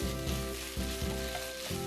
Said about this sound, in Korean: 입맛에 맞게 재료를 넣고 골고루 볶아주세요.